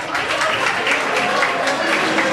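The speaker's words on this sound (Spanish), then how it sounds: "Un aplauso." Audience applause at a Miss Venezuela pageant, a dense, steady wash of many hands clapping at full strength throughout with no voices standing out.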